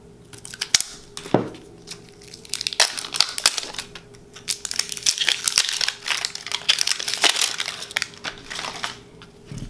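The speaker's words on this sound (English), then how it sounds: "I'm gonna go ahead and open up this tape" Plastic packaging around a roll of tape is torn open and crumpled, giving dense crinkling and crackling close up with a few sharp snaps, steady throughout, with no talking.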